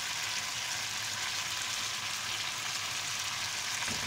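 Chicken fries in a karahi with a steady, dense hiss of sizzling oil that stays even and continuous throughout at moderate volume.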